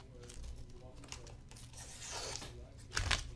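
Trimming around a vinyl window decal gives soft tearing and crinkling sounds from the plastic, with a few short cutting rustles and a louder tear near the end, close and fairly quiet.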